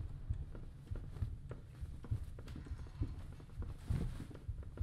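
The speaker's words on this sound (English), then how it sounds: "Did you hear the footsteps?" Footsteps approach in the horror video game Occult as a continuous run of dull, low thuds at a brisk walking pace, moderately close and rising slightly near the end.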